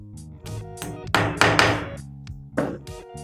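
A small wall plug is hammered into a hole drilled in concrete with a 3/4 bit: several sharp, separate knocks and taps, close and fairly loud, in an irregular rhythm with short pauses.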